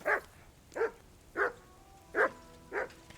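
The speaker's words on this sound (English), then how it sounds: "Henry, call that dog to heel." Mutt, the dog in the game Kingdom Come Deliverance II, barks five times in a steady rhythm, each bark clear and close over a quiet background.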